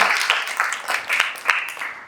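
Hands clapping in a beginner dance class, brisk repeated claps that are close and fairly loud, falling in a quick, roughly even rhythm.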